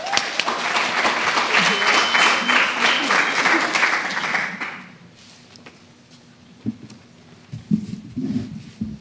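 An audience claps steadily in a hall to welcome a speaker at a capstone presentation, loud and sustained for about four seconds, then the applause fades out abruptly, leaving quiet room noise with a few faint shuffles.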